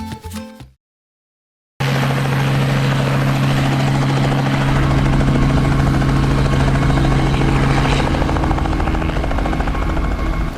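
A helicopter from a flight school in Cape Girardeau runs loud and close, its rotor chop and turbine whine holding steady after a brief quiet gap at the start, with no voices.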